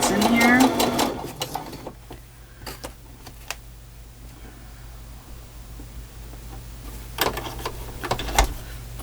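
A sewing machine runs brown thread through fabric in short bursts of rapid mechanical stitching, close and clear, separated by pauses with quiet handling noises.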